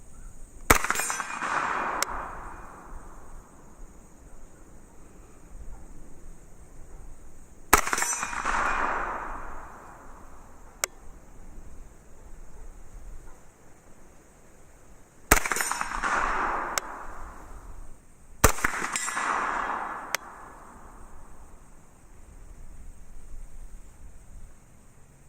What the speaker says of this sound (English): I'm going to start out just by shooting some steel